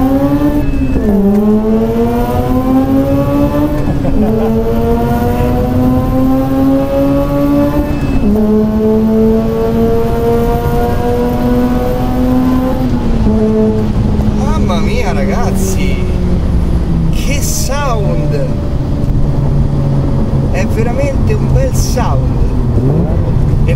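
A Mazda RX-8 sports car engine revs up and down repeatedly, rising and falling in pitch through several gear changes, loud and close, with a buzzy rotary tone, also sounding on release.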